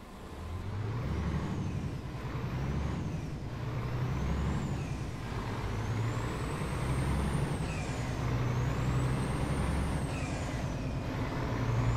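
A Scania truck in Euro Truck Simulator 2 runs with a steady engine drone and a high whine that rises and falls with the gear shifts, with air-brake hisses, all continuous and close.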